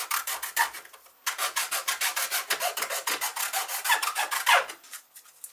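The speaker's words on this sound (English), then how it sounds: "I kind of sanded it around and I think the shape's looking quite nice and smooth." A plastic Ducati 1098 mirror is sanded by hand: rhythmic back-and-forth rasping strokes, about three per second, close and clear after a brief pause.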